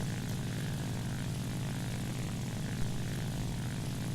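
A propeller fighter plane's piston engine drones steadily in War Thunder during aerial combat, a constant, even roar throughout with no voices.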